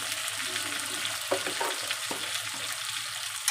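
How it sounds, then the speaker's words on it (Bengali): Fish (sating) sizzles in a pan with green banana while being stirred: a low, steady frying hiss with a few soft scraping stir strokes, fairly quiet and with no voices. "একটু নাড়াচাড়া দিয়ে নিলাম।"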